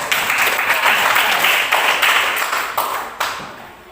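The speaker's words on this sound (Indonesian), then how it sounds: "Tepuk tangan dulu kalian ya." A classroom of students applauds with dense, lively clapping that stays loud throughout and then thins into a few scattered claps as it winds down.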